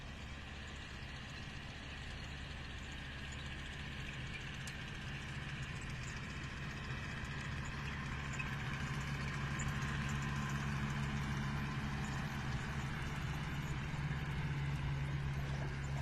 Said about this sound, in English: The John Deere going down the beach behind me.